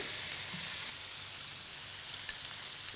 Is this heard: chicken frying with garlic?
yes